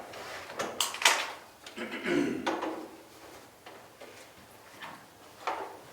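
An antique wooden easel being lifted out and set up in a planning board meeting room: a series of knocks, clunks and scraping handling noises, with voices talking nearby.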